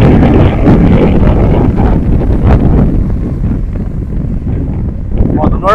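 Strong sea wind roars and buffets the microphone steadily throughout a windy-day FPV drone flight by the coast, loud and continuous, with a voice speaking faintly beneath it.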